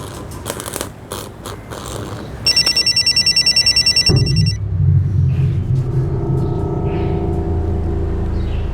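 A telephone bell rings in a rapid repeated burst for an incoming call, loud and close, cutting off as a low rumbling tone takes over.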